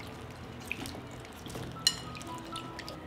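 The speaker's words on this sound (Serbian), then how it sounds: "Ovako očišćen beli luk stavit ću u činiju sa vodom da se malo opere" Peeled garlic cloves are swished through a bowl of water, giving faint, sparse drips and small sloshes in a quiet kitchen, with one slightly sharper splash midway.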